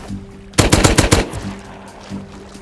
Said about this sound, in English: I'm getting shot up from their roof.